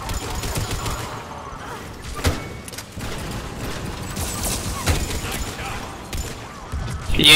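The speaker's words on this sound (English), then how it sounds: "I'm being shot." Gunfire in the co-op mode of Mass Effect 3 strikes the player, a steady volley of shots and impacts with a few sharper hits layered over a dense game mix.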